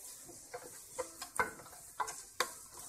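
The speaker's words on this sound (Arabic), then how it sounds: "ونغطيوها عاود ونخليوها تشحر واحد شويش حتى تبان مزيان ونحسوا بان الفلفله طابت لنا" Peppers frying in olive oil in a covered pan over low heat, a faint steady sizzle broken by soft scattered clicks and knocks of a utensil against the pan.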